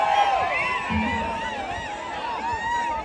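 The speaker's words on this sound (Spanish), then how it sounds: "A ver, el grito de los borrachos." A live concert crowd shouts and whoops loudly in answer to the singer, with some drunk audience members among them, giving a continuous rowdy roar of many voices for a few seconds.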